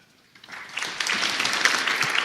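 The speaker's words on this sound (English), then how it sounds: "Big round of applause, ladies and gentlemen" An audience claps at the official launch of a strategic plan. The applause starts faintly, then swells within half a second into a dense, sustained round that holds at moderate loudness to the end, with no talk over it.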